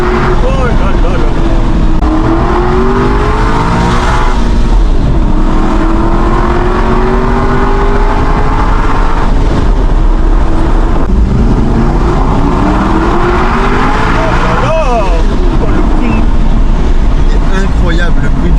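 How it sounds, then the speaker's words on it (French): Aston Martin Vantage V8 engine roars loudly and close while the car drifts, its revs sweeping up and down in repeated surges without a break, tyre and wind noise blended underneath. "Incroyable le bruit du V8."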